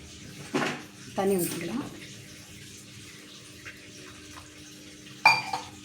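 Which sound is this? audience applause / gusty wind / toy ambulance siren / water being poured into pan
water being poured into pan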